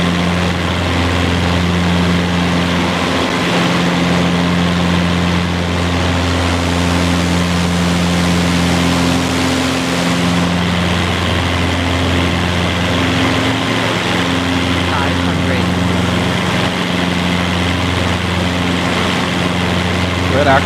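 Small propeller aircraft engine running low near 274 RPM in a flight simulator game, a steady loud droning hum with strong low harmonics that holds throughout under faint talk.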